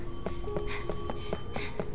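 Phone-like electronic ringing in the video game Death end re;Quest 2, a rapid repeating pattern of bright pulses about every fifth of a second, steady and fairly close over low game ambience, with no talk.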